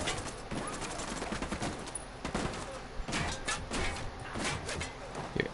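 Rapid bursts of gunfire crackle through an open world video game battle, with overlapping shots and volleys in a dense, continuous firefight.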